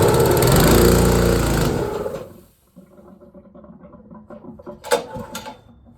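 A small gasoline engine with the choke on roars loudly at full throttle for about two seconds, then cuts out and leaves faint shop rattles and knocks.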